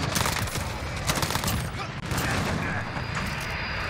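Dense gunfire in the video game Modern Warfare with an M4A1 rifle, rapid overlapping bursts and booms that fill the whole stretch, loud and continuous with a player talking over it.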